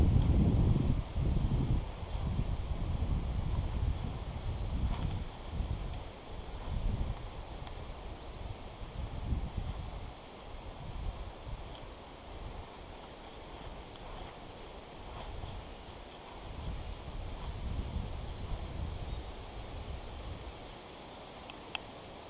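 Wind blowing by the River Test, a steady broad rushing and buffeting across the mic that swells and eases throughout, close and fairly loud, with no voices.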